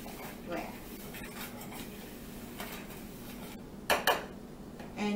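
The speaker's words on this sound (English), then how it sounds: "So all these dry ingredients, we are going to mix it well." Dry cookie ingredients for vegan pineapple cookies being mixed in a bowl, soft scraping and stirring with a few sharp clinks of utensil against the bowl, close up over quiet room noise.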